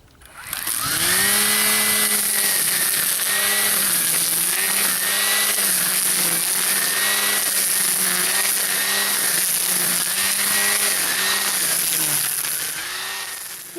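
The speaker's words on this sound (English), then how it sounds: "And now the 18-volt on high." Ryobi 18-volt brushless string trimmer running on high speed, a loud close steady motor whine with line whirring and slight rhythmic wavering in pitch, continuous after a quick spin-up.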